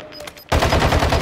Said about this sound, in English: Quit shooting, bro.